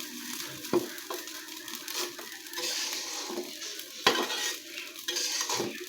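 Broken rice frying in oil in a pan while being stirred: a steady close sizzle with repeated spoon scrapes and metallic clinks against the pan throughout, with no talking.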